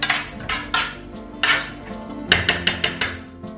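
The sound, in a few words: stirring garlic clove in a pan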